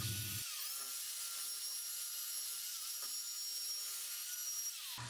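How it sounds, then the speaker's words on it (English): A wire brush bit spinning on a drill to clean the head of an old sledge hammer, a steady high whirring scrub that holds for several seconds and stops abruptly. "To get to the difficult areas, I used a wire brush bit on my drill."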